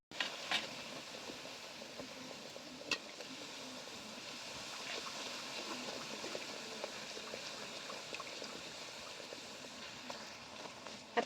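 Puris made with palm fruit fry in oil over a low flame, producing a soft, continuous bubbling hiss with occasional small pops, fairly faint and steady without speech.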